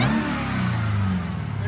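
A Jeep Trackhawk's 6.2L supercharged V8 revs through an aftermarket exhaust, a deep, loud, rumbling blip that holds and then settles, heard up close with no talking.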